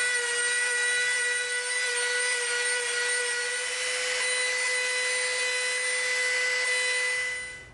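A power tool fitted with a smoothing bit shapes EVA foam for a dragonbone axe prop, giving a close, steady high-pitched whine that holds continuously for about seven seconds before cutting off.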